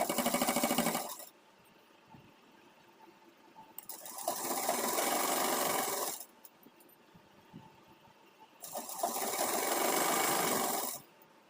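A sewing machine stitches an Afghani salwar in three close, whirring runs of a few seconds each, separated by quiet pauses.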